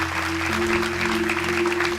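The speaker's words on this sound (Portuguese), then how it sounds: "Dê um aplauso bem forte a Deus." Congregation at a church service clapping together, a steady, dense round of applause from many hands, with a sustained organ or keyboard tone beneath it and no talking.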